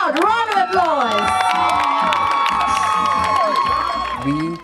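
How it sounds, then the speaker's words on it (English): A festival crowd on stage in Cape Town cheers, whoops and claps loudly and continuously, with children shouting and voices blending into a dense, sustained roar. "Let's give them a huge, loud round of applause."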